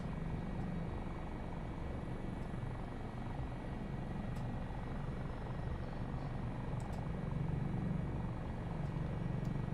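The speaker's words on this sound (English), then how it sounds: "It is such a breeze to fly this helicopter, it really is." A simulated HH-65A Dolphin Coast Guard helicopter flies steadily in a flight game, its rotor and turbine making a constant, dense drone that holds level for the whole stretch without voices.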